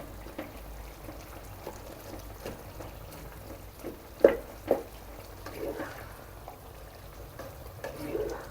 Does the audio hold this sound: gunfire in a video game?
no